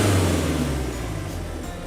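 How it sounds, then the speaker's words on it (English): An Isuzu Elf truck engine with 300,000 kilometers idles and revs close by, a steady low droning rumble with a slight rise in pitch, heard alone without any talking. "The engine condition is sound and no vibration."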